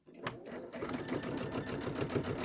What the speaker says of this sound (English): let's go ahead and stitch that down